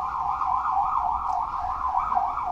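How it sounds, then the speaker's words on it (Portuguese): An ambulance siren outside, a steady wailing tone rising and falling in a regular cycle, fairly loud and continuous with no voices over it. "Mais uma ambulância."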